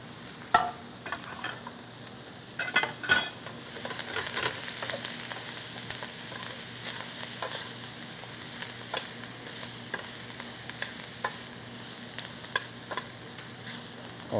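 Broccoli rabe and orecchiette fry in a pan with a soft continuous sizzle, broken by repeated scraping and clacking stirs, close up and with no talking.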